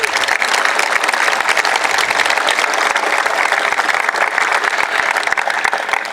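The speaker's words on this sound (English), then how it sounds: "could you please give them a well-deserved round of thankful applause?" A crowd applauds at an outdoor grand opening ceremony at Vista Field, giving a sustained, loud round of clapping with crisp individual claps audible throughout and no speech over it.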